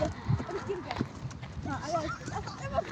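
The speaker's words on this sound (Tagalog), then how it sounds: "Nakasakay na rin ako ng kabayo." Hooves of a ridden horse clip-clop in an uneven, walking rhythm at close range, heard under steady conversation between people nearby.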